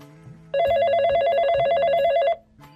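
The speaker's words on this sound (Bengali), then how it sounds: "এইবার দিয়ে 20 বার ফোন দিল।" A mobile phone rings with a loud electronic bell-like ringtone, a steady warbling tone lasting nearly two seconds before cutting off, heard close with no talk over it.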